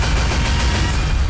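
A gunshot in a Hindi TV crime drama scene, a loud, dense burst of firing filling the short moment on its own with no talk over it.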